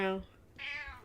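A cat meows twice in quick succession, close and fairly loud, with a short pause between the calls.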